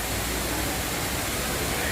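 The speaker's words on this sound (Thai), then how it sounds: "นี่ น้ำตกสูงๆแล้วนะคะ" A tall waterfall at a cafe in Chiang Rai, Thailand, pours down in a steady, dense roar of rushing water that fills the space continuously, with no breaks or voices.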